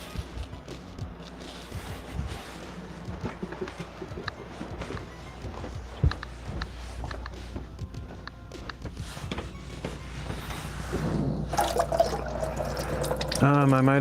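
Running tap water pours steadily while something is rinsed under it in a bookbinding workspace, with clattering and handling noises throughout and a brief higher tone near the end.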